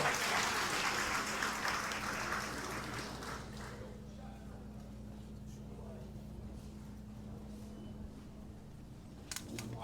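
Crowd applause at a community gathering in Les Cayes, Haiti, dense and bright at first, then fading over several seconds to a faint murmur of scattered claps, with camera-shutter-like clicks near the end.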